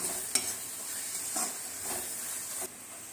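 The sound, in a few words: sautéing okra with spice powders in a pan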